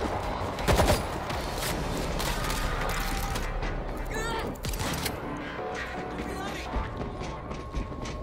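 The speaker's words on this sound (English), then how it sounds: "Let me show you the power of the AK" AK rifle fire in the zombie shooter World War Z, a loud burst of shots with mechanical clatter, set amid continuous game noise and mixed with player chatter.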